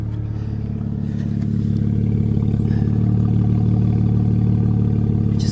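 A Mazda RX8 Shinka idles with its exhaust sounding like a straight pipe, a steady loud low drone that swells slightly partway through and carries on without speech.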